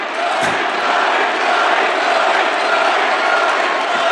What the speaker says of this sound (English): They're cheering an environmentalist.